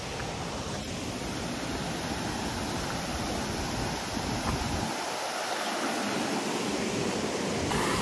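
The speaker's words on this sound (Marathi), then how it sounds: "तर गाइस धबधबा बघा किती मस्त वाटते" A waterfall at a Shiv temple site in Kasmal, Pen, pours in a steady, loud, full-bodied roar that continues unbroken throughout, with no voices over it.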